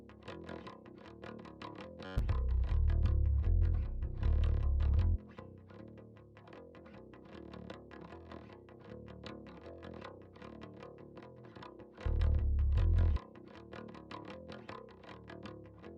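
A bass guitar plays through EQ alone with the distortion plugin switched off, a clean mid-focused tone with plucked notes and two short stretches of heavy low-end sustain.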